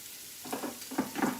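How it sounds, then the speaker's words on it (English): Onion, celery and carrots frying in a pan for cheeseburger soup, a soft steady sizzle with a few brief stirring scrapes. "in that, I am going to put my onion, celery, and carrots"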